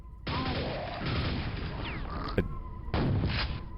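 A delayed barrel explosion in Quake's Dimension of the Machine on Hard difficulty, with loud broadband blasts and rumbling, crashing debris that run continuously, a sharp transient partway through and another burst near the end.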